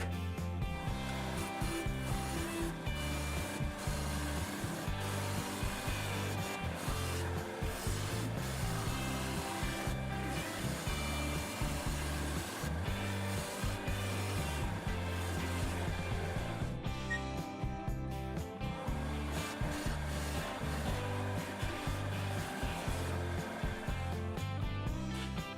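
A wood spindle spins on a lathe with a steady rest fitted, a continuous rough rubbing and scraping hum with a rhythmic low rumble running steadily throughout, close and fairly loud with no talking.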